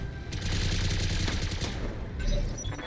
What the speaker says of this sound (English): Machine gun time!